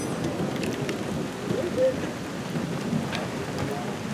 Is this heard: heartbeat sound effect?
no